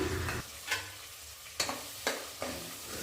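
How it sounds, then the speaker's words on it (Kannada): Tomatoes and peas fry in a pan while a spoon stirs them, giving a steady sizzle broken by several sharp scraping strokes at irregular intervals, close and moderately loud with no talking. "ಟೊಮೆಟೊ ಎಲ್ಲ ಸಾಫ್ಟ್ ಆಗೋವರೆಗೂ ಫ್ರೈ ಮಾಡಿಕೊಂಡು"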